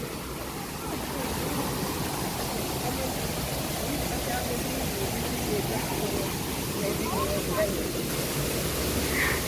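A waterfall and flowing water at Disney's Animal Kingdom, a steady broadband rush that fills the whole stretch at an even level, close and constant.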